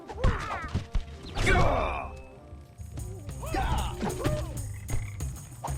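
Frogs croak in Sly 4, a medieval level, as a few warbling cartoonish calls mixed with crashing and whacking effects and game music, fairly close and uneven in rhythm.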